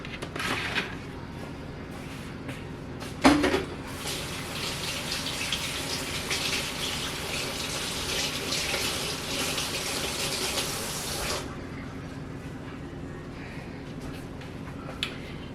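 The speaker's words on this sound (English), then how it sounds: "Let me wash my hands." A kitchen tap runs steadily for several seconds as hands are washed beneath it, a broadband rush of water at close range with a brief clunk near the start, then the flow cuts off.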